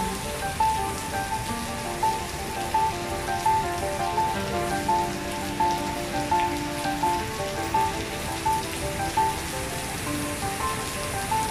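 Steady rain pours down at the National Stadium in Singapore in a dense, even hiss, with small patters and drips scattered throughout and no voices.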